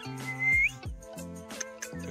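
A pet parrot whistles a few short, bright, rising notes close by, mixed with chirpy squawks and clicks in an uneven rhythm.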